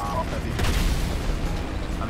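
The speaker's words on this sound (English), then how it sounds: "All these explosions are scary." Explosions in the video game GTA Online, several dull booms rumbling under steady background noise, with game sounds throughout.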